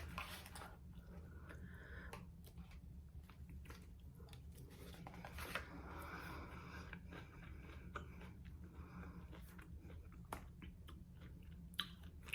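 Someone chews a mouthful of Dollar Tree green bean casserole, soft wet squishing and faint crunching close to the mic, quiet and continuous with no talking.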